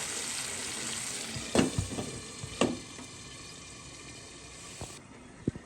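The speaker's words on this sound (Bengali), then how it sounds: "এখন আমি মাছটা দিয়ে দিচ্ছি এটাকে দিয়ে আমি পাঁচ থেকে সাত মিনিট এভাবে কষিয়ে নেব" Hilsa fish sizzles in a hot pan while being cooked down for korma: a steady, close frying hiss runs throughout, broken by a few sharp clatters of utensils against the pan.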